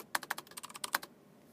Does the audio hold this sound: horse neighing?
no